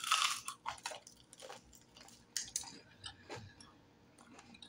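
Close, quiet crunching from bites and chewing of deep-fried turtle, a few sharp crisp bursts early on fading into softer chews.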